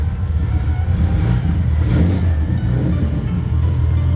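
A classic BMW E21 engine runs close and loud, a rough, steady mid-pitched rumble with slight swells as it is revved.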